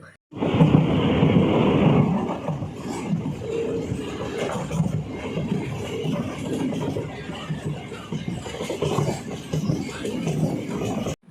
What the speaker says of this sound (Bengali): ট্রেনটাও ছেড়ে দিল